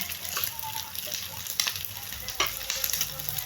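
Pork pieces fry to a crisp in a pan for dinuguan, giving a constant close sizzle with occasional stirring scrapes and pops.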